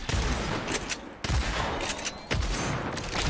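Bursts of rapid gunfire in the shooter video game Agents of Mayhem, loud and close, with sharp repeated volleys cut by brief pauses.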